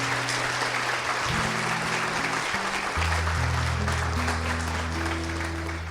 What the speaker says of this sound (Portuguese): Vamos aplaudir o Santo Evangelho.